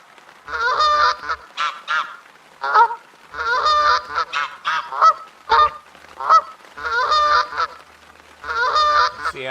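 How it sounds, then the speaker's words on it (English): Geese in the hunting game The Hunter: Call of the Wild give loud, repeated honking calls in bursts, several birds calling close together in a steady, clamorous rhythm with no talk over them. "I think those are mean geese. What they sound like."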